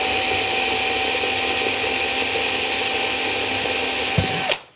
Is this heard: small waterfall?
no